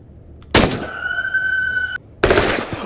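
Bursts of rapid machine gun fire in the video game Into the Radius, two loud volleys separated by a sustained ringing tone, close and dominant with no talking.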